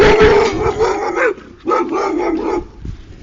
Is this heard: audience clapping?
no